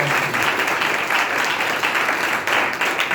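Loud, sustained applause from a church congregation fills the space, dense steady clapping with no pauses.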